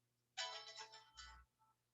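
A phone's melodic ringtone chimes loudly and briefly, a short tune of bright tones that cuts off, during a recorded math lesson with no talking.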